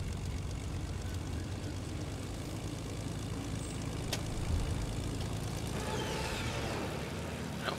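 A continuous propeller airplane engine in Fortnite drones steadily, fairly faint and rumbling, with a brief click partway through.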